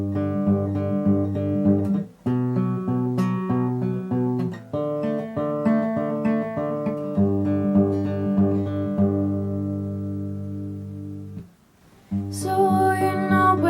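Acoustic guitar picks out broken chords of a song, played steadily and close up with no voice, the arpeggiated notes ringing on, with a brief pause near two seconds and a louder strum near the end.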